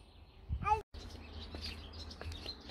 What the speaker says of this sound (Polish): Ptaszki pięknie śpiewają.